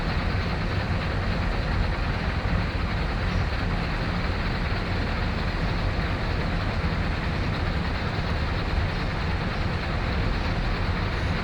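A train rolls past in the Train Sim World 5 game at a Cresson yard, a steady dense rumble of wheels and rail noise that holds throughout, near and loud with no talk.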